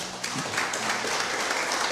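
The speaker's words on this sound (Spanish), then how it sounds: "Dale un aplauso a Dios." A church congregation applauds in a dense, continuous wash of clapping that holds steady for a couple of seconds, with no voices over it.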